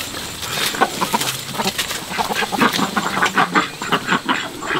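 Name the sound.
ducks and a rooster on a farm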